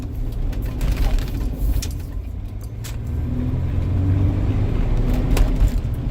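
Road traffic passing close by, a steady loud rumble of cars and engines that swells and ebbs over several seconds, with faint metallic rattles on top and no talk.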